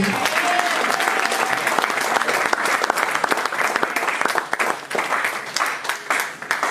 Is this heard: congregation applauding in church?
yes